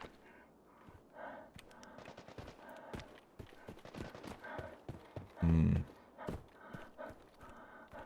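Scattered gunfire crackles in the distance during an Arena Breakout Infinite raid: irregular sharp pops and short bursts, with one louder thump midway, over quiet ambient movement.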